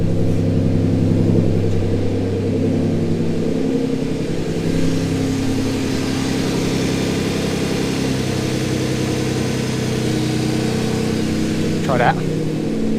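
A twin-turbo Ford Capri engine idling a little too high while timing is pulled to lower the idle, a loud, steady close rumble with an even pulsing beat and a brief higher whine near the end, with talk over it.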